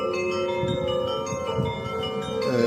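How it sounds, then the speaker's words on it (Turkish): Church bells ring steadily over Sofiivska Square in Kyiv, with sustained, overlapping tones, their resonant hum carrying through the whole stretch amid faint background noise. "Şimdi bu çan sesleri sona erdikten sonra"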